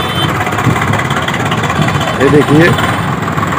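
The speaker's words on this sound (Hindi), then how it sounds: "देखिए ट्रैक्टर पे लगे हुए हैं, मिट्टी गिरा रहे हैं इसमें" A tractor engine runs steadily while tipping soil at an unfinished river ghat under construction in Prayagraj, a continuous mid-pitched idle close by, with someone talking over it throughout.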